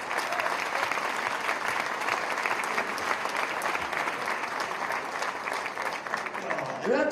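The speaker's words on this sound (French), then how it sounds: "On peut l'applaudir" Sustained applause from guests at an international gala dinner of the Toques Blanches chefs' club, a dense even wash of clapping filling the room for several seconds.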